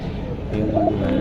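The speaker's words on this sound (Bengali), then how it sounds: "এটাও বাগা একটা কবুতর নর" A male pigeon coos once, a short, low, throaty call heard close by over a steady background murmur of other birds.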